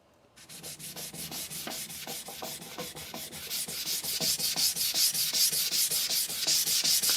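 A knife blade is thinned on a vitrified sintered diamond whetstone in a close, rhythmic run of quick scraping strokes. The strokes grow slightly louder and faster as they go, with no talking.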